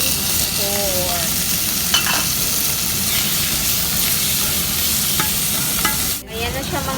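Ground pork stir-fries with ginger and garlic in a hot pan, giving a loud, steady sizzle with scraping stirs and a few sharp clinks throughout.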